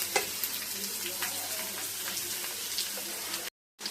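Sliced onions fry with garlic in a hot pan for a poondu kuzhambu, a steady close sizzle with faint scraping stirs, stopping abruptly near the end.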